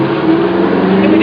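Engine of a Zephyr vehicle idling in a parking lot, heard from inside the cabin near the bed with the windows open: a steady low hum that holds evenly throughout, with a voice faintly present.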